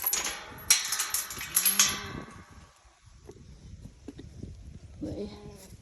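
Farm cows lowing at feeding and watering time, several loud moos near the start followed by quieter, drawn-out calls later, with a voice speaking in between.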